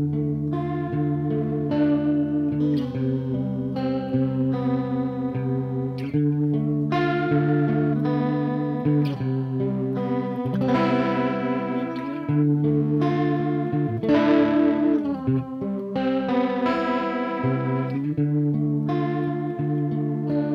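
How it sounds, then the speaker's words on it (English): An electric guitar runs through amp-modelling effects, distorted and then wavering with vibrato, with chorus-like shimmer and echo as chords and single notes ring out steadily, with no talking. "And of course, you can have some distortion now. Or maybe some vibrato."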